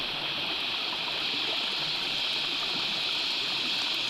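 Steady rushing and gurgling of a stream in an Australian subtropical rainforest, constant and fairly soft, with no voices.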